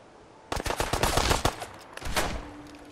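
Rapid bursts of automatic gunfire from the Fallout 4 video game, loud and dense, one long volley then a second after a short gap, with no talk.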